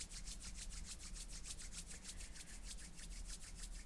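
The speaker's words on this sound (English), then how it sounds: "gently begin to rub the palms together, creating energy and warmth" Palms rubbing together in a fast, even back-and-forth rhythm, a dry brushing swish repeating about four times a second, close and quiet with no talk.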